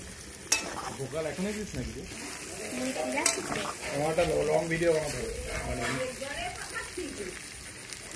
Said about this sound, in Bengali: এখন আলুর দমের আলু ভাজা চলছে।